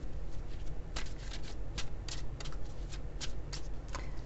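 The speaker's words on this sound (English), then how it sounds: "I'm going to pull a couple of Lenormand cards here." A deck of Lenormand cards is shuffled by hand close up, with a steady run of soft riffling snaps and flutters in quick irregular bursts and no talk.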